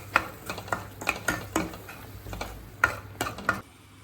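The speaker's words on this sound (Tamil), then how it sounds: "நம்ம அரைச்சி வச்ச தக்காளி விழுது அதில் போட்டு அப்புறம் சால்ட் போட்டுட்டு இதுவும் அது கொஞ்சம் நேரம் வதக்கிட்டு" Ground tomato paste and salt sautéed in a pan: a spoon strikes and scrapes the pan in an irregular run of close clicking taps over a low background hum.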